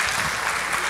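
A church congregation at a women's service claps together, a dense, even burst of applause filling the room for a brief moment without speech.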